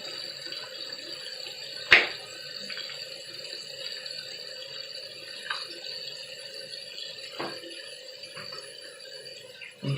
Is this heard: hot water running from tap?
yes